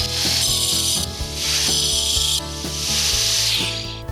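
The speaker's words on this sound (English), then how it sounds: "We can't quite make all the cuts we need to on the wet saw, so we finish off the block with our small grinder." A small grinder cuts grey concrete block in a loud, close, steady whine with a gritty rasping edge that swells and eases in several passes.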